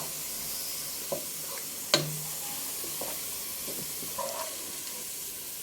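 Sliced onions frying in hot oil to make crispy beresta, a soft, steady sizzle with a few sharp pops and stirring clicks scattered through it, close and without talk.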